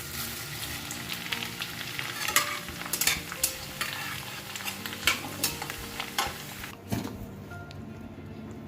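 Flattened rice (chira) fries in reused hot oil that previously cooked fritters, with a steady sizzle and repeated scraping stirs of a utensil against the pan, close and fairly loud, with no talking.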